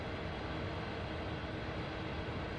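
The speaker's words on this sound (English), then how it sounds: "And hey, there goes another train." A train passes in the Train Sim World video game on PS4, heard as a steady, dense broadband rumble and rush of rolling wagons that stays loud and unbroken throughout, with no voices.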